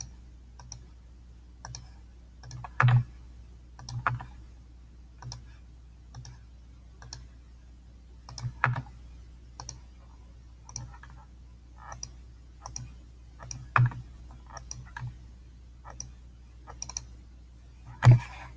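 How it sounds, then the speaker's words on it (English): Computer mouse buttons clicked one at a time while working in low poly art software, a string of sharp close clicks spaced irregularly across the stretch, with a few louder snaps and no talking. "So each time I want to go up and down, I then click each single time."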